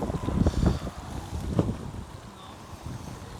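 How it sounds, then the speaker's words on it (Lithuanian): Gusty wind buffeting outdoors near a camper van on a trip to Liepāja, a rough, rumbling roar with strong surges early on, settling into a steadier blustery hiss. "Vėjas."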